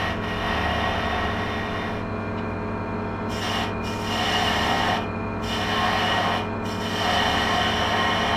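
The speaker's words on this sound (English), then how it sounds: "the sanding is going to finish the shape off, so the corners have got to be lightly rounded off" Sandpaper rubbing a spinning wooden Indian club on a lathe to round off hard edges, a loud continuous rasping hiss with slight periodic swells, no talk.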